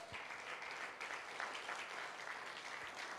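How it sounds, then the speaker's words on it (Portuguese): A church congregation applauds with sustained, even clapping that carries on without a break, heard moderately loud in a large room. "Aplauda ao Senhor"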